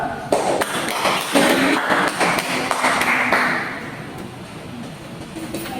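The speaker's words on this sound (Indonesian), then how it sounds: "Ayo teman-teman berikan tepuk tangan untuk Aisyah dan Ibu." A classroom giving a round of applause, many hands clapping in a brisk scattered burst that gradually thins and fades, moderately close.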